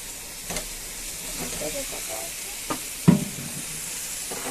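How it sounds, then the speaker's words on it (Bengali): Potatoes dropped into tomato gravy in a pan for aloo dum and stirred, a steady close sizzle broken by a few soft thuds and a louder scrape of the spoon. "এখন আমি দিয়ে দিব আলুগুলো।"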